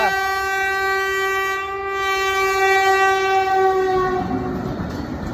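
A train passes on a railway track near Ballari, its horn sounding a loud, sustained, steady tone over the rumble and rattle of the wagons, with the horn fading toward the end as the track noise grows.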